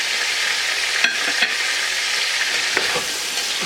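Steady loud sizzling of ginger garlic paste frying in a hot pan for kofta curry, with a few soft clinks and stirring scrapes, no talking.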